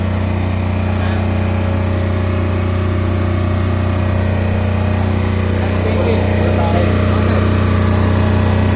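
A loud 8.5 kVA Mapro diesel generator drones steadily and close, a constant low rumble with a mechanical hum that never changes pace.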